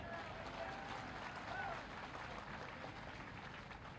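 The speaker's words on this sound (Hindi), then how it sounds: "अरे तालियों के गड़गड़ाहट से" Steady applause from a large crowd at a political rally in Gwalior, a dense wash of clapping that stays fairly even and continuous throughout, with a faint murmur of voices mixed in.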